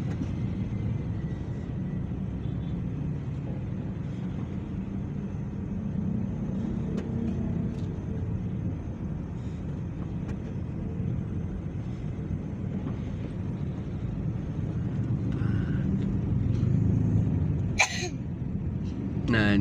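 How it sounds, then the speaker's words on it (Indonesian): Steady road traffic in Rancaekek, West Java, on an evening during the holiday travel season: a continuous low engine and tyre rumble from a busy road, with a brief sharp burst near the end. "Nah ini kondisi lalu lintas di Rancaikek sore hari."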